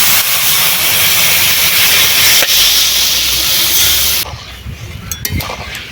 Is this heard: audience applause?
no